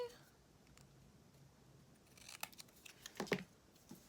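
Scissors cut and trim patterned card-making paper in a few quiet snips, faint at first and then a short cluster of sharper, closer cuts near the end.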